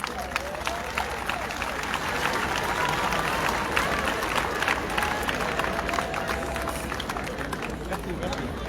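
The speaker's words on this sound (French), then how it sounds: "Je vous prie d'applaudir l'abbé Dominique Diagne." Audience applause and cheering for a priest, Abbé Dominique Diagne, at a Catholic gathering; steady sustained clapping from a large crowd with voices mixed in throughout, dense and fairly loud.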